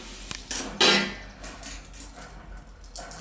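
Crispy churumuri puffed rice stirred in a pan, with a few close, loud scraping rustles of the spoon against the metal, followed by softer, fainter stirring.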